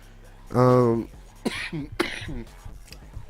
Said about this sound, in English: I'm still getting off the food, so I'm coughing a little bit